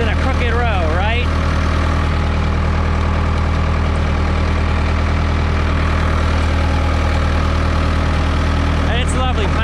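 Ford 6610 tractor engine running steadily while planting corn in a field, a loud continuous low drone with strong harmonics throughout, with a brief voice near the start and end.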